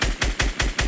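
Rapid bursts of automatic gunfire in a shooter video game, five sharp evenly spaced shots in under a second, loud and close with a heavy low thump on each.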